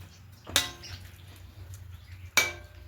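A vegetable and soybean curry with ghee is stirred in a pan, with two distinct sharp metallic clanks of a utensil against the pan about two seconds apart over a quiet background.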